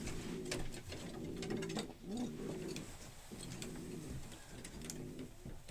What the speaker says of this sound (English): Small pigeon, really nice small pigeon